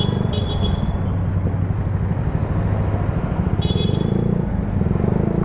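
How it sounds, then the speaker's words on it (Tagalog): Two short bursts of vehicle horn honking, a few seconds apart, over loud, constant engine and road noise from nearby night traffic in Batangas City, heard from a Yamaha Mio Sporty scooter. "Busina ka ng busina."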